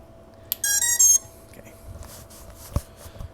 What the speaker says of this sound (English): we do not want to listen to ESC's beeping